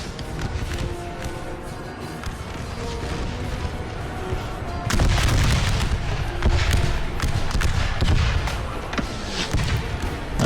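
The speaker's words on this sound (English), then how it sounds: "Artillery's trying to target this unit here." Artillery booms and crashes roll across an American Civil War battle game set in the Wilderness. Heavy thumps land over steady gunfire, and the barrage swells louder about halfway through.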